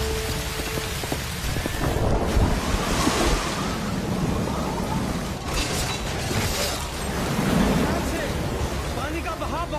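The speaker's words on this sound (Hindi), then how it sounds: "पानी का बहाव बहुत तेज है" Fast-flowing, swollen Sirsa river water in a roaring, continuous rush with surging waves, loud and close throughout, while people talk over it.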